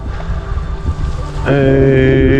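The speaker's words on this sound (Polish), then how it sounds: "Odstawiłem rusztowanie, bo wiatr tu zawiewa" Gusty wind rumbles against the microphone beside scaffolding during wall priming before plastering, joined midway by a steady droning hum that holds to the end.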